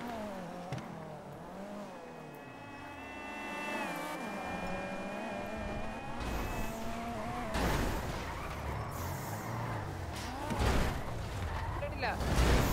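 A vehicle arrives, with a revving engine rising and falling in pitch, then rougher rumbling and louder bursts as it comes closer. It stays fairly faint under the mix, and people talk over it.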